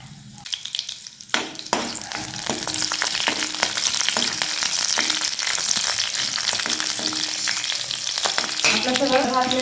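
Cumin, curry leaves and green chilli pieces fry in a hot pan, making a loud, steady sizzle that runs almost the whole time after a brief quiet start, with a few stirring clinks.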